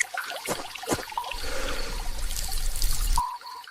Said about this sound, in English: This spring water restores your strength.